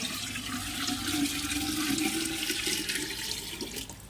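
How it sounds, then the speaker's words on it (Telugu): Steady stream of water running into a pot, a continuous close-up gush and splash with no talking. "వాటర్ అయితే కొండలో పోసుకుంటున్నా"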